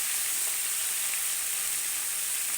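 Vegetables sizzle in a hot pan after whole green chillies go in, a steady bright hiss of frying that runs unbroken and fairly loud, with no talking.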